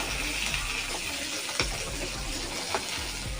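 Oil being heated lightly in a pan for Kerala-style coconut chammanthi, with a steady, soft hiss and sizzle running throughout and a couple of faint clicks, no talk over it.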